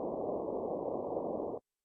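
Static, unmodulated noise from the Borderlands Granular app, a flat, muffled hiss that holds perfectly steady for about a second and a half and then cuts off abruptly into silence.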